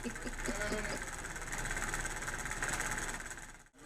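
Loud fan running: a steady, broadband whooshing drone with a faint mechanical hum persists throughout, fairly close and constant, with a brief dip near the end.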